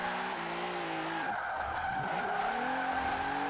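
In Forza Horizon 4, a car engine revs while tires squeal in a handbrake-initiated skidding slide, the pitch dipping and climbing again as the drift carries on.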